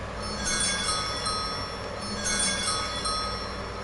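A fishing rod bite alarm bell chimes twice in the Fishing Planet video game. The bright metallic rings sit over a constant dense ambient background of water and environment noise, with no talk.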